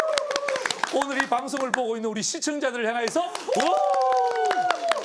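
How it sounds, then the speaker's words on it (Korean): A church audience claps at a Bible lecture: quick, scattered hand claps run steadily through the clip beneath a man's continuous, animated speech. "박수 치니까 얼마나 기뻐요"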